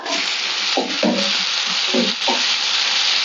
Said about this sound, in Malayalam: ഇനി നമുക്ക് തക്കാളി ഇട്ട് കൊടുക്കാം വീണ്ടും നന്നായി ഇളക്കി കൊടുക്കുക